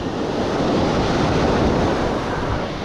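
Ocean waves washing onto the beach at Manasota Key, a loud, continuous close-up roar of surf with wind buffeting the microphone and no voices.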